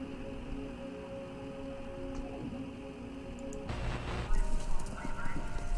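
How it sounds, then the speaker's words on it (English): Rapid hoofbeats of galloping horses from the video game Kentucky Route Zero thunder steadily beneath a humming, static-laden background, growing louder and busier toward the end. "Sounds like horses. Horses running?"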